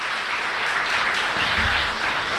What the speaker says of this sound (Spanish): Fuerte aplauso entonces.